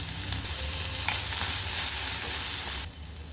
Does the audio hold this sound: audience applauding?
no